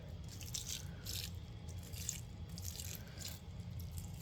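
Melted snow water is poured into an indoor bin of Canadian nightcrawlers, giving a faint, steady trickle with soft dripping and splashing bursts over several seconds.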